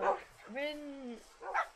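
A dog in a modded block-building video game world gives a short bark followed by a drawn-out whining yip and a final bark, close and clear.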